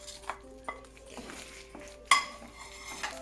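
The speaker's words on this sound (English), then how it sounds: "Give it a nice stir" Grilled chicken is stirred into gravy in a pan. A few light spoon clinks and scrapes are followed by one sharper metallic clank, all quiet and close, with no talk.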